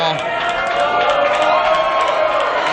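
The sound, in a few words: wrestling crowd cheering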